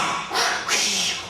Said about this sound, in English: the sound of a blowhole half a mile away